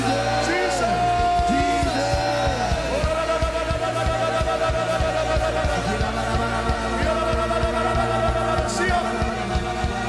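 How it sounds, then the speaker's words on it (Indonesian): Church crowd at a New Year's Eve service shouting and cheering the name Jesus, a dense mass of many voices yelling in repeated rising whoops over a constant loud hum, sustained throughout. "teriakan Jesus, sorakan Jesus"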